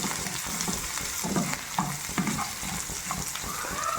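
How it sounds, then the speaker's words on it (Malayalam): Cumin, cloves, cardamom and garlic fry in a hot pan with a continuous bright sizzle, broken by a few soft stirring clinks and scrapes of a spoon against the pan. "നമുക്ക് കുറച്ച് ജീരകം, ഗ്രാമ്പു, ഏലക്ക, വെളുത്തുള്ളി ഒന്ന് നന്നായിട്ട് മൂപ്പിച്ചെടുക്കുന്നുണ്ട് കേട്ടോ"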